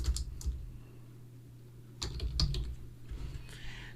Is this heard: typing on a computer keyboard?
yes